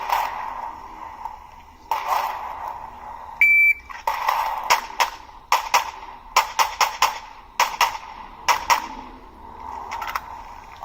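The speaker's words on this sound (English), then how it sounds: "And Chris is going to go ahead and run the shot timer for me" At a pistol shooting drill, a shot timer gives a short electronic beep, followed by a rapid series of sharp gunshots in irregular bursts over a steady hum, loud and close.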